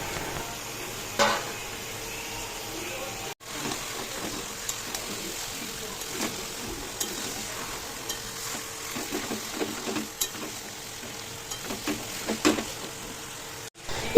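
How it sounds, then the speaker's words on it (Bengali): Chicken pieces sizzle and are stirred in a pan with ginger-garlic paste, a soft steady frying hiss broken by scraping stirs and light clinks, fairly close and moderately quiet. "সুন্দর করে পরিষ্কার করে রাখা চিকেনগুলোকে দিয়ে দেবো দিয়ে আর কষাবো"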